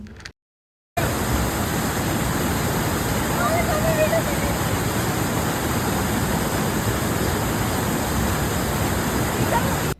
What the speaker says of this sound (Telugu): ఇదే నేత్రవతి రివర్.